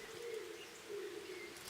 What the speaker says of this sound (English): You hear that owl cooing in the background?